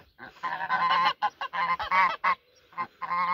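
Domestic geese honk loudly and close by in a rapid run of harsh, repeated calls with brief pauses between bursts, no voices over them.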